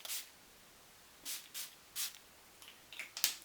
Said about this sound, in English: We're going to go ahead and spray it right here.